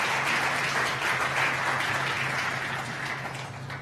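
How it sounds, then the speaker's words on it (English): Dense, sustained applause from an audience at a Worlds of Flavor 2015 culinary session on Bangkok, a continuous wash of many hands clapping that holds steady and eases off slightly near the end. "Please, round of applause"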